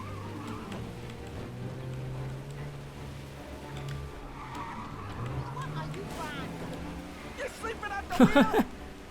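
A car in Mafia Definitive Edition driving fast and handling heavily, its engine a steady low drone beneath near-constant talking, with a brief louder burst of noise near the end.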